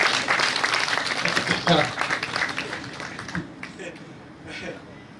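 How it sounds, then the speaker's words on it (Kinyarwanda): Guests applauding at a dowry giving ceremony, a burst of lively clapping that thins out and fades over several seconds, with voices murmuring underneath. "amashyi menshi masenge"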